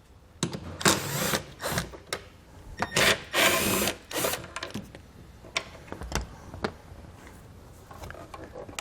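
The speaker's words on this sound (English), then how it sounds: "we're going to use a T15 Torx bit socket to remove these two screws" A T15 Torx bit socket on a tool works two screws out of a 2017 vehicle's tail light area: bursts of whirring ratchet and driver noise with short clicks and pauses between, close up.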